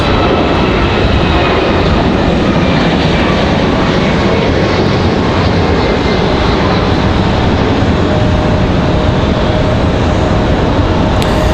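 Air France Boeing 777-200 jet with GE90 engines at Raleigh-Durham airport, a loud, steady broadband engine roar held throughout with no talk.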